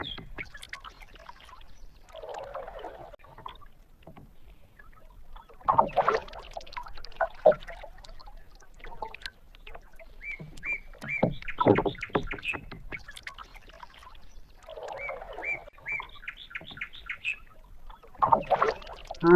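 A boat moves on the calm Kaveri river at Ranganathittu bird sanctuary. Soft paddle splashes and water sloshing come in irregular bursts, with faint bird calls between them.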